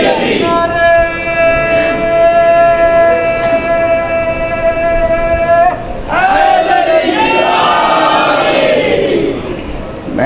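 A large crowd at a religious majlis gathering chants slogans loudly in unison, a sustained massed roar of voices that pauses briefly and then surges again.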